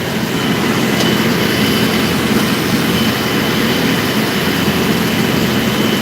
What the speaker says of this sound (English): Get on the tractor again.